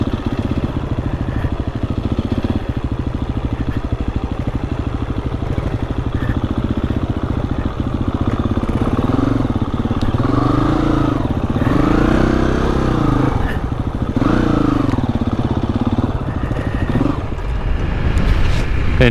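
Honda CRF300L dual-sport motorcycle riding on the street after trail use, its engine droning steadily throughout with a loud continuous tone and rising, falling revs as it accelerates and shifts, no voices over it.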